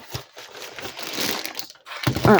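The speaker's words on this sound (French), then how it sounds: "un gros bloc de polystyrène qui est emballé de chaque côté, ce qui fait que je déballe tout" Plastic wrapping is pulled and crinkled off a large polystyrene packing block, giving a continuous close rustling and crackling with a sharper burst at the end.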